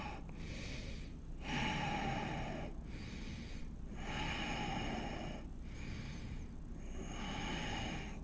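Slow, deep breaths held in a yoga arm-balance pose, a run of airy inhales and exhales alternating in a steady rhythm, close and fairly loud with no talking.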